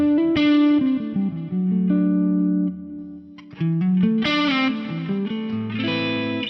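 Electric guitar played through stacked amp models on an Axe-FX, sounding as distorted chords and sustained notes with chorus-like shimmer and reverb, loud and up close with brief pauses between phrases.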